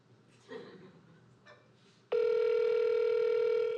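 Steady ringback tone on an outgoing phone call begins partway through and holds loud and continuous after a stretch of faint voices and background noise.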